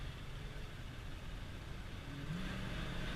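Carbureted engine revving with crisp throttle response, a steady mid-pitched drone that swells slightly louder toward the end, heard close with no talking.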